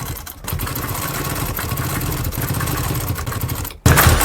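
A sewing machine stitching along the edge of lace trim, running in a steady fast mechanical chatter, then stopping briefly before a louder burst starts near the end.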